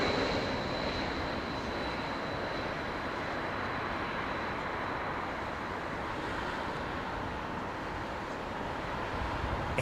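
A steady, loud roar from an E2 airliner landing at Heathrow Airport in gusty wind, holding an even broadband rumble with a thin whine for the full duration.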